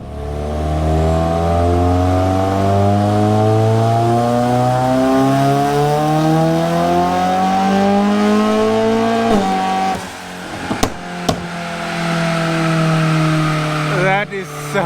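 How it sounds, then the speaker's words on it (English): A tuned 1.8T Polo GTI making over 280 kW revs hard on a dyno, its loud engine note climbing steadily for about nine seconds, then breaking off with sharp pops before rising again. "I've actually never heard this car on the dyno."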